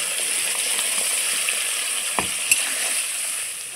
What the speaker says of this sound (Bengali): আমি বেটে রাখা মশলাটা দিয়ে দিচ্ছি।